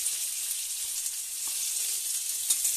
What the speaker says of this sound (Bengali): পেঁয়াজ দিয়ে ভালো করে ভেজে নিচ্ছি